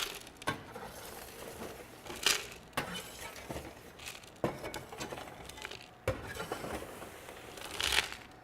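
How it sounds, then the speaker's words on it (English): Crushed pill powder brushed into a metal scale pan for weighing, heard as scattered light scraping and gritty ticks with a few sharper clinks. "I'm going to just kind of brush this sample into my scale pan"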